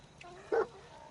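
A dog in the Fallout 76 video game gives a single short bark, fairly faint and brief, over a quiet hum of in-game ambience.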